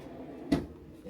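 A single short thud from a deep drawer under the bench in an RV, opened or closed near the mic, with faint background hum before and after.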